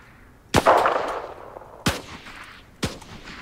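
Three sharp gunshots ring out in a video game, spaced about a second apart, each a loud crack with a short ringing tail, and no talk over them.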